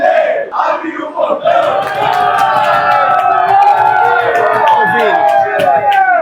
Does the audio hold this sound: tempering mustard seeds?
no